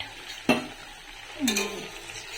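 Bora fritters deep-fry in oil, a quiet steady bubbling sizzle broken by two sharp stirring clacks about a second apart.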